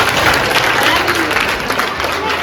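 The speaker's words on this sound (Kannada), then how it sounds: "ಒಂದು ಜೋರ ಚಪ್ಪಾಳೆ." Loud, dense applause from a school batch reunion group, a continuous burst of many hands clapping close by, with crowd voices mixed in.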